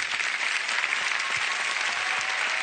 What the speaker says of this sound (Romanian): Se poate niște aplauze pentru juriu?